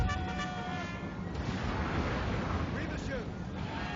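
Napoleon Total War battle din: continuous, muffled musket and artillery fire rumbles steadily at a distance, with faint game voices mixed in.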